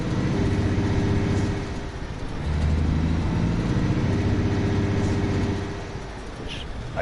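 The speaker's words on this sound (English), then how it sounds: "that little ticky rattly sound which the first truck had." A heavy truck idles steadily up close with a low engine drone and a faint ticky rattle running through it, the level swelling and easing slightly over several seconds.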